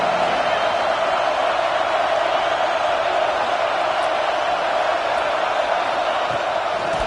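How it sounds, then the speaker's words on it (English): A college football stadium crowd at a Texas at Florida game roars steadily as the home defense digs in near the red zone, a dense, continuous wall of distant cheering and noise with no clear breaks. "the crowd coming to life here, trying to help this defense down in the red zone"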